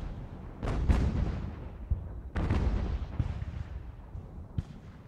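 Heavy cannon booms sound in a naval battle in the game Ultimate General: American Revolution. Several loud deep blasts come in uneven succession, each rolling away in a long rumble, with no voices over them.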